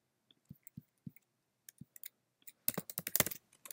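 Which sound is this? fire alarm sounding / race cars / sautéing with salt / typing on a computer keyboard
typing on a computer keyboard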